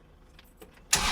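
A 2025 John Deere 2025R compact tractor with a mechanically injected engine cranks and fires up abruptly, a loud burst of engine noise arriving at the very end after a quiet stretch.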